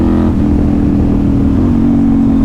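A loud, steady engine drone with a brief rise in pitch as the bike accelerates, then holds at a constant roar; no voices.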